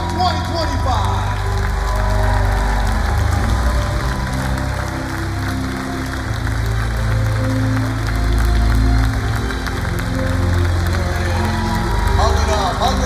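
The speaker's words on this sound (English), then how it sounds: "One last round of applause" Audience applause at the 2025 Pro Football Hall of Fame Gold Jacket Ceremony, a steady crowd roar of clapping sustained throughout, with talk heard over it.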